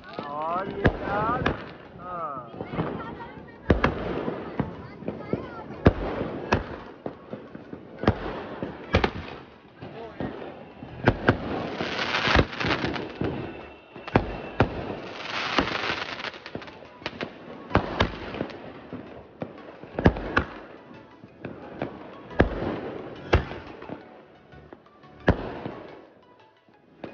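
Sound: Diwali fireworks exploding

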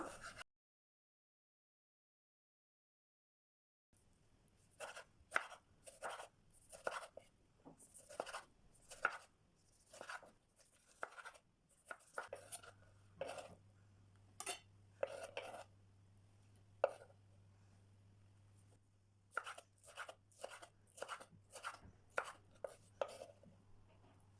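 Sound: chopping tomato with knife

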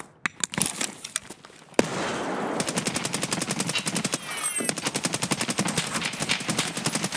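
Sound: gunfire in a video game

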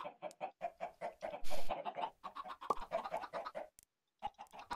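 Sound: chickens clucking in Minecraft video game

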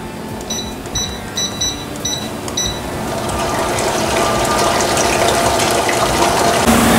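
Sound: whipping fresh cream with granulated sugar and mascarpone

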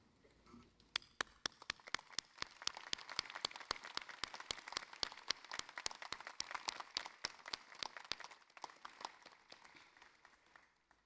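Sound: graduates applauding their supporters at graduation ceremony

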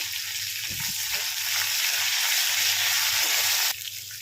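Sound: curry leaves frying in oil

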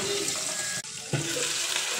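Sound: water poured into a pot of browned onions

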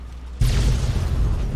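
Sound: explosion in the video game Fallout 3

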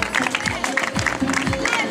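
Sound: applause for runners at a 10K race finish

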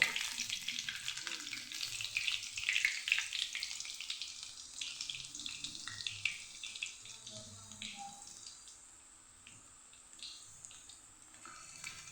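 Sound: green chillies deep-frying in oil

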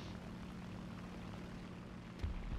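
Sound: enemy aircraft engine in the video game War Thunder

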